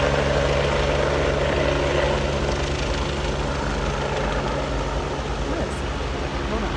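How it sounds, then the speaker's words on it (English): A helicopter taking off from a Beverly Hills rooftop drones steadily and loudly nearby, a constant whirring hum with a throbbing low rumble that holds throughout. "We're just going to stop while a helicopter's about to take off on the roof here"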